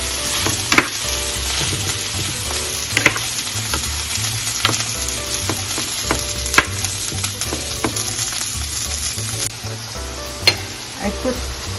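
Butter sizzles and crackles steadily in a hot pan while buttered shrimp with vegetables cook, with a dense continuous fry hiss and scattered sharper pops and utensil clicks throughout, close and fairly loud with no talking.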